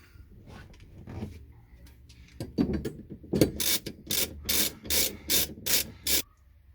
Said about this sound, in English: can't even get this bolt threaded on. Start threading.